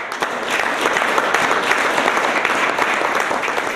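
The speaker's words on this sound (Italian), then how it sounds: "Applausi e tanta commozione stamani al Politeama Pratese" Steady, dense applause from an audience at a plaque unveiling ceremony in the Politeama Pratese theatre in Prato, continuous and fairly loud throughout with no break.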